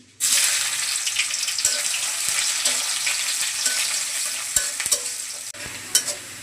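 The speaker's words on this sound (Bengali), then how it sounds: "পেঁয়াজ আর আদা কুচি ভালোভাবে ভাজা হয়ে গেছে।" Chopped onion and ginger fry in hot oil for khichuri, a loud, continuous sizzle with occasional sharp clicks of stirring, and no voice over it.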